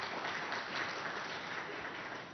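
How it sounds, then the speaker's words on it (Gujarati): An audience at a Gujarati talk show claps steadily for Maheshbhai, a dense, even burst of applause that fills the whole stretch without pause. "જોરદાર તાળીઓ થઈ જાય મહેશભાઈ માટે"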